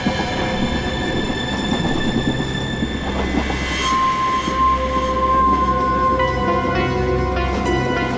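A train rolls steadily along the rails with a loud continuous rumble and clatter of wheels, joined midway by a thin, sustained squeal of wheels on track.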